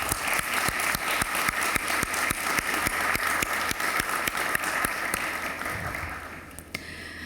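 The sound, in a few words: audience applause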